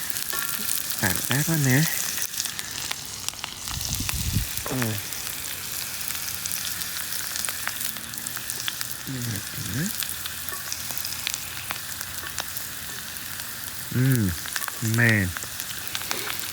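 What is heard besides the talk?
morel mushrooms frying in a pan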